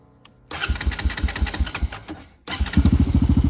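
A motor engine fires instantly at a tap of the push-button on a KemiMoto battery, runs briefly with a loud chugging idle, cuts out, then starts again just as quickly, close up.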